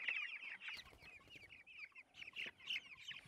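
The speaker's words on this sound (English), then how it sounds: "We did decide to do one more round of meat chickens." Meat chickens cluck and chatter close by on grass, a busy overlapping run of short clucks and squawks in irregular bursts.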